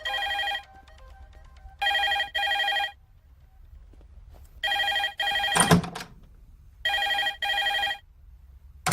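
A telephone rings repeatedly in a Telugu movie scene: loud, bright electronic double rings in steady bursts separated by short pauses, with a sharp clatter in the middle and no talk.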